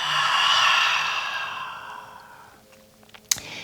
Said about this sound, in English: Take a deep inhale through the nose and exhale out of the mouth